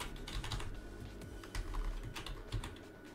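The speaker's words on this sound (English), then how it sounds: "all you need to do is type in the name of the game." Keys on a computer keyboard are tapped in a quick, close run of soft clicks over a low steady background hum.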